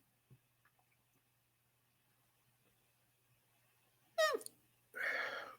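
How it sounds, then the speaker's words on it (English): A person's lips make a short, loud fart-like sputter close to the microphone in a quiet room, followed by a second breathy burst. "That was my lips making a funny noise."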